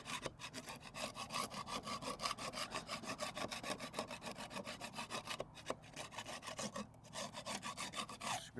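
A scraper works century-old layers of paint off a surface in fast, even rasping strokes, a dense rhythmic scratch close up with brief pauses and no talk.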